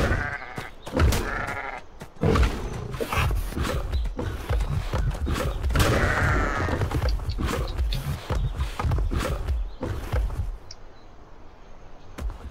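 Sheep bleat repeatedly and loudly up close in the Atlas survival game, with overlapping cries through most of the stretch before things quiet toward the end.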